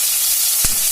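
Sliced onions dropped into hot oil with chillies and mustard seeds, a loud steady sizzle broken by a short utensil clack, no talking.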